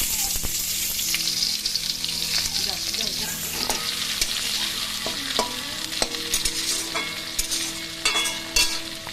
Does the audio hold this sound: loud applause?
no